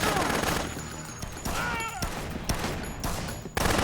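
Rapid gunfire from the zombie action game Dead Rising, bursts of shots and sharp cracks over a busy game mix with whooshing tones, fairly loud and continuous with brief gaps.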